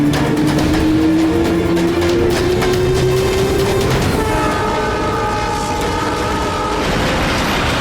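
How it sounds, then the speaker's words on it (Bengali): A train horn sounds as the train pulls out of a station, a long steady tone dipping slightly in pitch before a second, higher horn joins near the end, over continuous rolling rail noise and crowd background. "চলো, ট্রেন ছেড়ে দিল, তাড়াতাড়ি"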